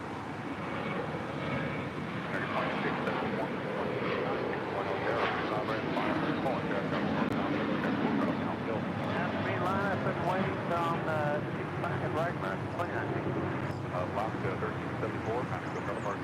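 An airliner takes off from runway 25 right at LAX with a loud, sustained engine roar that holds steady throughout, while voices speak over it.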